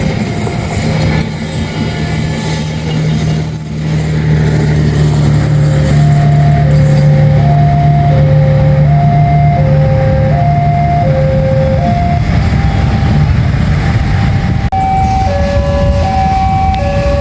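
The Sawunggalih passenger train rumbles past very close in Cirebon, Indonesia, loud and continuous, with a low droning hum, rhythmic wheel noise and a repeating horn-like two-tone signal.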